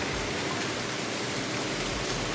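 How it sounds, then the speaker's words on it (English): Heavy rain pours down in a dense, steady roar of hiss that is loud and unbroken from start to finish, with no voices. "Oh, it's raining so bad, like."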